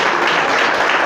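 A church congregation applauding during a sermon on the Bible: dense, steady, loud clapping from many hands with no gaps.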